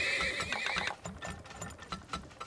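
A horse in the Turmoil video game gives a loud whinny, followed by a run of rhythmic clip-clop hoofbeats with mechanical clicking underneath; no one speaks.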